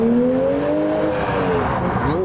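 A GTR accelerating through a tunnel, its engine note loud and close, holding a strong steady tone before the pitch climbs again near the end.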